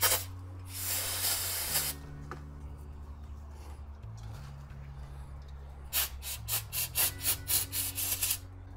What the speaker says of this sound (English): I'm probably just going to hit them with a wire brush and a little bit of brake clean just to clean them up